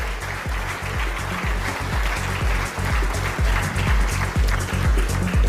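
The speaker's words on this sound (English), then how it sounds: "I'd request a warm round of applause and a big thank you" An audience applauds at an awards event where CM Chandrababu Naidu receives the Business Reformer of the Year award; the clapping is fairly loud and steady, with a regular rhythmic beat running under it throughout.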